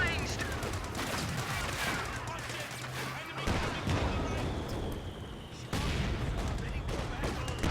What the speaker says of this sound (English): that LMG burst almost killed this sniper